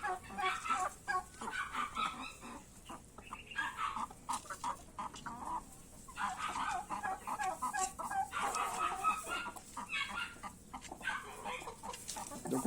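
Hens of mixed breeds, including Rhode Island Reds, cluck and cackle in a coop, with many overlapping calls that are fairly faint and continuous, and no talking.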